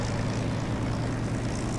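A steady, droning propeller engine roar from a Spitfire Mk IX in DCS World, running smoothly at a constant level with no talk over it.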